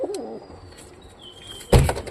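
Domestic pigeons in a loft give a low, wavering coo at the start, followed by quieter chirps and faint noises, then a sudden loud flutter or thump near the end.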